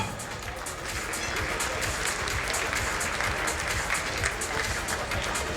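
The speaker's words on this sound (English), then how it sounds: "These are happy occasions, you're allowed to clap." An audience at a jewellery charity event applauds steadily, a dense, even wash of clapping from many hands that continues without a break, heard from some distance.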